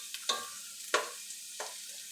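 Onions sweat down in a pan for tomato sauce, giving a faint, soft sizzle under three or four brief scraping stirs spaced about a second apart.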